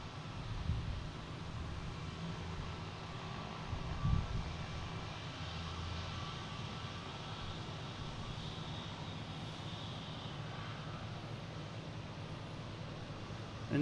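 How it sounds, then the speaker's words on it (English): A British Airways Boeing 777 arriving from London Heathrow at Boston Logan, its engines a steady, moderately distant broadband roar that holds evenly throughout without any talk. "next coming in is a British Airways 777"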